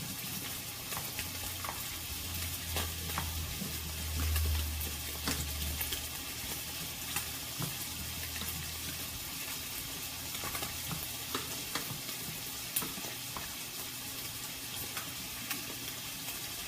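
Catfish frying in a pan, giving a steady, low-level sizzle with occasional faint crackles and stirring sounds throughout, heard alone with no talking.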